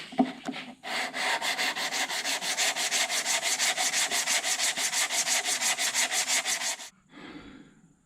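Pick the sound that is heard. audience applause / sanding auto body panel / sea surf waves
sanding auto body panel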